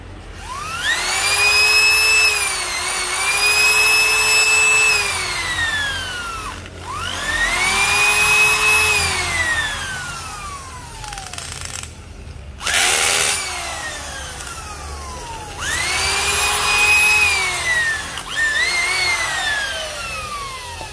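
A handheld power hammer drill runs in repeated bursts of several seconds each, its high whine rising as it spins up, holding, then falling as it coasts down. It sounds close and loud, with short pauses between runs.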